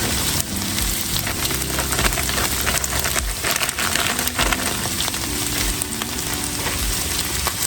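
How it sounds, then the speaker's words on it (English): Cauliflower rice tossed into a hot pan for keto dirty rice sizzles and crackles steadily, a loud, close, continuous frying hiss with faint stirring scrapes and no voices. "I'm using cauliflower rice. And we're just gonna throw that in there."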